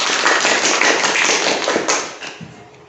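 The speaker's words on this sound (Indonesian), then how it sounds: "Beri aplaus." A classroom group of students claps together in a dense, quick round of applause that stays strong and then tapers off after about two seconds.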